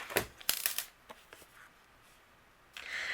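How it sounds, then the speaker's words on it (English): Scissors snipping excess patterned paper on a card project, a few quick crisp cuts and rustles close up, faint and intermittent with brief pauses between strokes. "using my scissors, we're going to trim away the excess"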